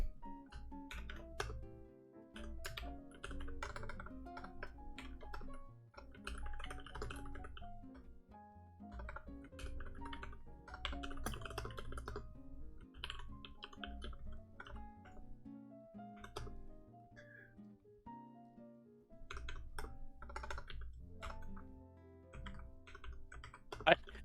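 Clicky computer keyboard typing runs steadily in the foreground during a coding lesson, with brief pauses, mixed with background music and occasional talk.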